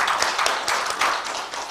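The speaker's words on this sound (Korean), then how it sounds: "박수로 환영해 주시기 바랍니다" Applause at a Korean civic-movement forum welcomes arriving lawmakers: a short burst of hand clapping from a modest crowd with clearly separate claps, fading slightly toward the end.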